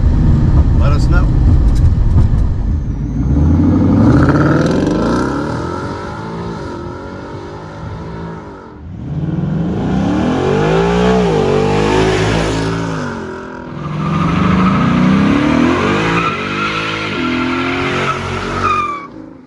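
A car fitted with a Ford Performance Gen4 Coyote crate engine revs hard in repeated rising and falling sweeps, with bursts of tire squeal. The engine is loud and close, and voices talk in between.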